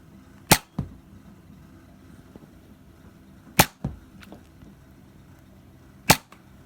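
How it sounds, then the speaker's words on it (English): A Nerf Jolt blaster fires three times, each shot a sharp close snap followed by a softer thud, spaced a few seconds apart in a quiet room. "Now, firing the Jolt for comparison."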